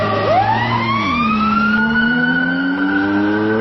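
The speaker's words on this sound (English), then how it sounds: "sirens and humming engine approaches a pass" Synthetic siren wailing and rising over a steady humming engine as a vehicle approaches, loud and continuous, like city street ambience heard from a window.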